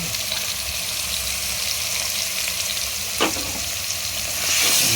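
Bottle gourd pieces frying in a pan for khichdi, a steady broadband sizzle with a brief stirring clatter near the end, fairly close and without talk.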